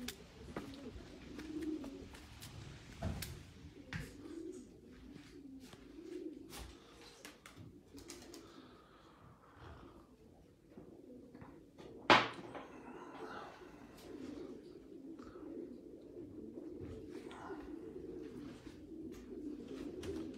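Domestic racing pigeons coo repeatedly in a loft of a national ace pigeon, soft, steady low calls running throughout, with scattered clicks and one brief sharp knock near the middle.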